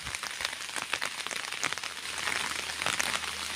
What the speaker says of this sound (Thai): ฝนกระตก